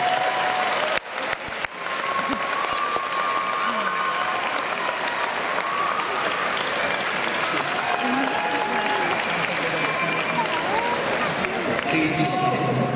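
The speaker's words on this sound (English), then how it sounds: "give a round of applause to express your appreciation for everything your parents, guardians, friends, and family members have done to support you" A large crowd at a 2011 high school graduation ceremony applauds continuously, a broad wash of clapping with some murmuring and a few cheers mixed in, holding at an even level throughout.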